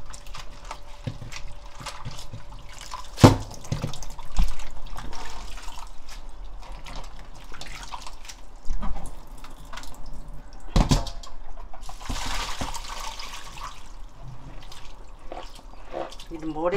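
Ingredients, likely shellfish for a clean soup broth, rinsed in a kitchen sink under running tap water, a steady splashing trickle with drips and clatter, while people talk over it.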